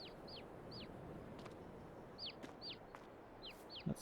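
Chickens and chicks in a farm coop in Farming Simulator 22 give off a series of short, high peeps and clucks in small clusters, fairly faint above a low steady ambient rumble.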